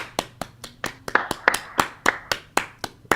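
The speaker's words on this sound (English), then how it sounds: "Another applause." Rhythmic clapping comes from a small group or one person at a live stream, about a dozen sharp, evenly spaced claps, close and fairly loud.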